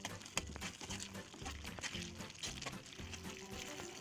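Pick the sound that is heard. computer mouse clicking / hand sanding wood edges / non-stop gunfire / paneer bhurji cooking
paneer bhurji cooking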